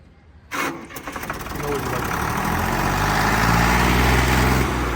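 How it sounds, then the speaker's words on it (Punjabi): A tractor engine, apparently a Sonalika or Arjun 555, cranks and catches, then settles into a loud, steady diesel rumble close by, with a voice briefly audible near the start. "ਮੜਾ ਸਟਾਰਟ ਕਰ ਦੁਬਾਰਾ"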